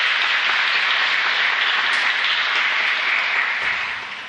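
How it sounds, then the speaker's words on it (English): A large audience applauds at a Youth Day event at the St. Petersburg International Gas Forum, dense, steady clapping holding loud throughout before tapering slightly at the end. "please, a round of applause for the Deputy Head of Gazprom, Sergei Khomyakov."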